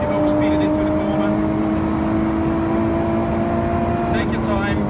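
A Lotus Evora 410 Sport lapping a race track, its engine holding a steady loud drone with clear harmonic tones that shift slightly as it is driven at the limit, heard from inside the car with someone talking over it.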